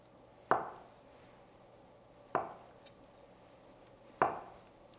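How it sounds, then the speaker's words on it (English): Knife cutting through tofu on a cutting board: three crisp, separate knocks spaced about two seconds apart, close and fairly quiet, with nothing else in between. "Going to cut it in another half here and cut it into slices about an"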